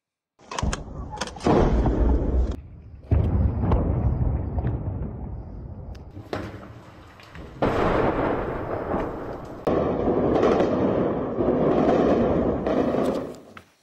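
Heavy artillery fire during street fighting in Bakhmut, close by, with loud sustained booming and rumbling bursts that swell and fade across the clip, with no voices.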